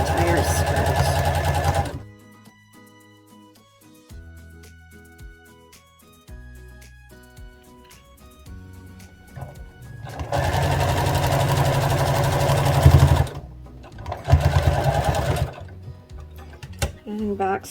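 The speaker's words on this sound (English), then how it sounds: "we're going to sew a circle completely around the entire skirt" A sewing machine stitching around the hem of a dress skirt, with bursts of fast, steady mechanical whirring and pauses between them, close by, while a person speaks over and between the runs.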